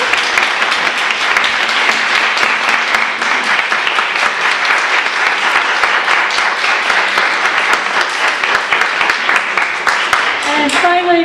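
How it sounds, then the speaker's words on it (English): Applause from the audience at an academic panel discussion on feminism rolls on in a long, unbroken stretch of dense clapping, steady and loud from start to finish. "2 rounds of applause, please"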